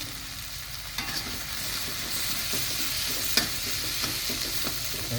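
Spices and lemongrass are stir-fried in a pan, a steady close sizzle with scraping and clinking of the utensil as it is stirred, and no talk.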